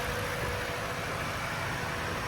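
A 5.7 liter iForce V8 in a 2016 Toyota Sequoia SR5 4X4 idles steadily in the open engine compartment, a smooth, even broadband hum with no talking over it.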